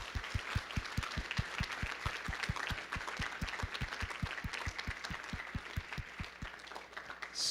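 Audience at a university symposium applauding, steady dense clapping from a crowd heard from a distance, moderately quiet and continuous, with a rhythmic low thumping running underneath throughout.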